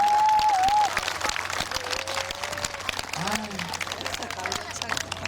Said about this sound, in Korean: 다시 한번 선생님께 경기에 박수 한번 부탁드리겠습니다